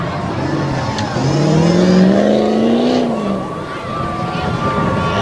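Monster truck engine at a Bangor show, roaring and revving with a rising then falling pitch, loud and sustained, while an announcer talks over it on the public address.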